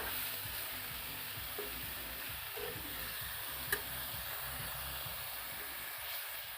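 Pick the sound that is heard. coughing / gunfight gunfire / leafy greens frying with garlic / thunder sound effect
leafy greens frying with garlic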